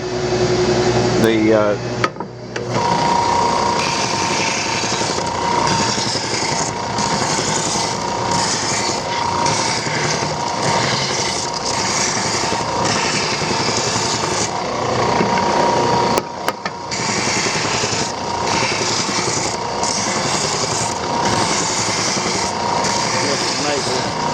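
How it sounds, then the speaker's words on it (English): A power sander runs steadily against a wooden canteen of air-dried maple or pine, a loud continuous whine and hum with a brief stop partway through, with a voice talking in places. "So let's go back and sand it just a little bit."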